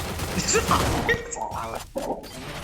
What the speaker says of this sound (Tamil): வீட்டுக்குள்ள வெடிகுண்டு போட்டு செக் பண்றாங்களே.